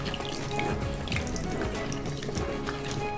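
Pine cones freshly gathered from the forest are rinsed by hand in a pot of water, giving a steady wet sloshing and dripping close by with no talk.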